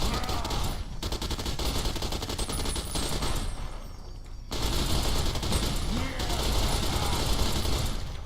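A Lewis automatic machine gun fires in long, dense bursts in Fallout: New Vegas, loud and close, with brief pauses between sustained streams of rapid shots.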